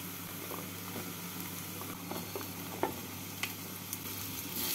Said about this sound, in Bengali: বেগুনগুলোকে পেঁয়াজের সাথে একটু ভেজে নিচ্ছি।